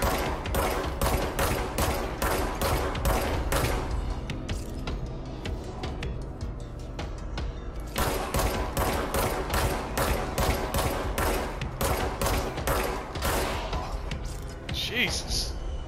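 Enemy gunfire in the video game Control, with rapid, dense bursts of automatic shots, loud and nearly continuous across the stretch and briefly thinning midway, while a voice speaks over the shooting.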